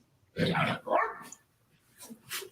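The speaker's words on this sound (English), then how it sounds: "Growling, barking." Puppies growl and bark at their mother dog during feeding time, with a burst of loud close barking and growling followed by a second vocal burst and fainter yips and whimpers trailing off.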